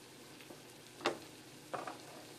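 White wine sizzles faintly in a hot pan for a shrimp linguine sauce, with a few brief scraping stirs and louder bursts of hiss as it is moved around, close up and quiet, no talking.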